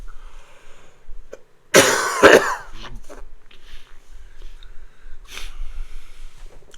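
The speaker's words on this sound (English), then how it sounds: "Some more coughing alert." A sharp, harsh double cough bursts out close up, followed a few seconds later by another shorter cough amid quiet breathing.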